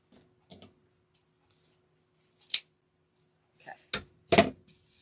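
Scissors snip through ribbon in a few short, crisp cuts near 2.5 s and again around 4 s, close and fairly quiet, with small rustles of ribbon handling in between and no talking.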